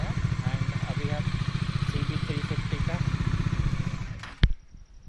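A Bajaj Dominar 400 motorcycle engine throbs through its exhaust at close range, the pulsing note rising and falling as the revs change, then dropping away near the end with a brief sharp knock.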